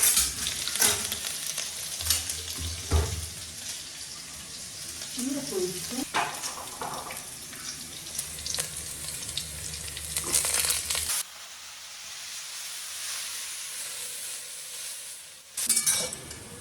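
Black cumin, dried red chilies and green chilies spit and crackle in hot oil, with a loud sizzle, a clink of a utensil and a brief voice, then a quieter, even frying hiss.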